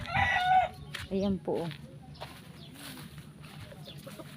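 Chickens at a family home cluck and crow nearby in short, loud calls, followed by quieter background clucking, while a person speaks softly.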